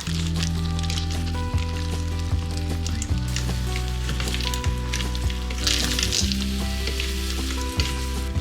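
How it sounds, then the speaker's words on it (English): Whole cherry tomatoes sizzling in homemade pasta sauce in a pan, a loud continuous crackling sizzle with stirring noises up close, set against steady background musical tones. "These whole cherry tomatoes are going straight into the pasta sauce."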